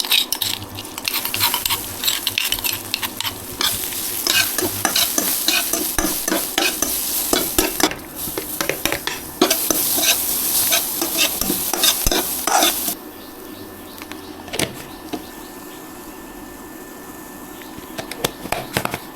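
Curry leaves, ginger and dried red chillies fry in a tablespoon of oil, a loud crackling sizzle with busy stirring and clattering spoon scrapes that eases off into a quieter simmer toward the end.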